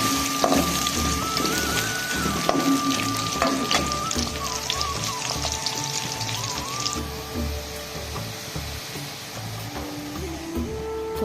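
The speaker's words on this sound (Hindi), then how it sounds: "ये घी भी गर्म हो चुका है। अब मैं प्याज ऐड कर दूँगी।" Chopped onions dropped into hot ghee and frying, a steady close sizzle and crackle running throughout, with some kitchen clatter and tonal background sounds layered over it.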